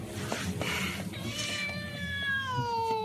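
A domestic cat meows close by, a few short cries and then one long, drawn-out meow that slowly falls in pitch, over a low background murmur.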